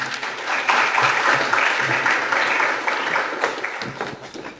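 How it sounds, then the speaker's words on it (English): A room full of people at an educational talk on life insurance applauds the speakers, a steady dense wash of clapping that holds for several seconds before thinning out. "Let's give them a big round of applause."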